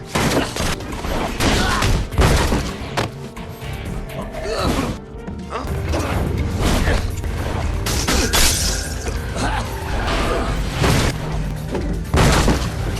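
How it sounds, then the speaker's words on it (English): A film fight scene in which a detective beats a serial killer carries dense, continuous impacts, crashes and booms over a music score, loud throughout with one brief lull partway through. "As Jacob beats the criminal"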